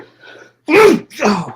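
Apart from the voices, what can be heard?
sneeze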